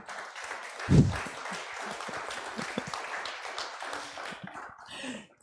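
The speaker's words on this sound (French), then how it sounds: "Je vous propose de les applaudir parce qu'ils étaient vraiment bien." A conference audience claps for panelists, a moderate wash of applause with a sharp thump near the start, fading toward the end.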